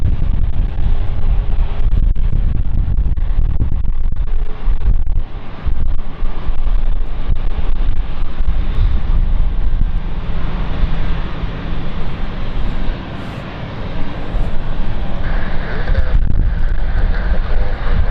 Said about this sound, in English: Flight is now moving.